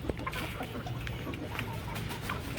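Faint, soft clucking of released chickens in the rainy season over a low, steady background noise.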